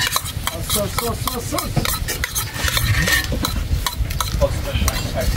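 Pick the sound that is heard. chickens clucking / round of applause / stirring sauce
stirring sauce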